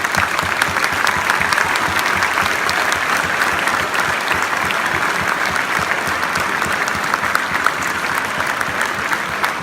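A convention audience applauds a speech steadily and loudly, with dense, continuous clapping that never lets up.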